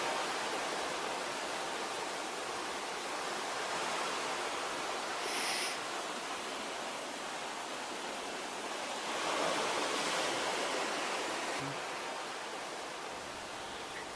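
Open green ocean at sea off the Pacific coast between Lima and Manta gives a steady, broad rushing wash, with slightly louder swells of surging water rising twice before easing back.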